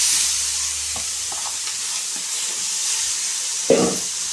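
Potatoes frying in a pan give a loud, steady sizzle and hiss, and a few soft stirring scrapes cut through it. A sharper clatter comes near the end.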